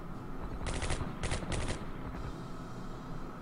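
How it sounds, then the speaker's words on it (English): Coastal gun fire in the war strategy game Strategic Command, with three quick rattling bursts of automatic-sounding shots over a dense rumbling background. "Coastal gun is firing."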